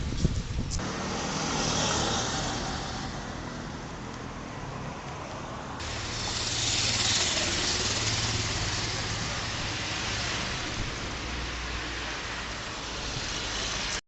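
Road traffic in Mauritius passes nearby as a continuous broad rush of cars and engines, with swells as vehicles go by, steady throughout.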